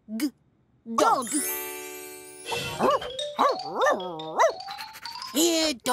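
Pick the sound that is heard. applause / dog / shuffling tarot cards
dog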